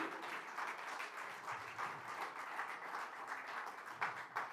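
A church congregation applauds together, a steady, continuous wash of many hands clapping at moderate distance, fairly quiet and without speech.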